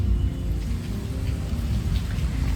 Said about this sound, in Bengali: চারিদিকে এত বৃষ্টি হচ্ছে কি বলবো